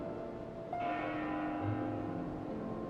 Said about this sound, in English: That bell sound must be coming from somewhere.